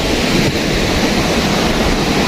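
Large ocean waves breaking on a shore, a loud, steady roar of surf mixed with wind buffeting the microphone, close and continuous throughout.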